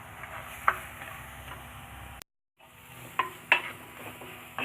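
Small shallots sauté in a pan for a coconut-milk karimeen fish curry. A soft, steady sizzle runs under occasional spoon scrapes and clinks against the pan. It breaks off in a brief gap of silence before resuming.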